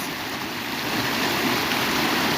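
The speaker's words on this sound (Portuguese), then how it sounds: "Como é lindo ver essas águas transbordando, tocando nas pedras" Overflowing water pours over stones on its way toward streams and rivers, making a constant broadband rush at moderate volume, unbroken and without voices.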